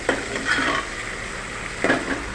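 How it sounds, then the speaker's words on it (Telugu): Crabs frying in a pan for an Andhra-style gongura crab curry, a steady sizzle broken by two louder bursts of stirring and scraping against the pan, with no voices. "చూడండి, ఇలా మనం బాగా వేయించేసుకోవాలి, బాగా ఫ్రై అవ్వాలండి."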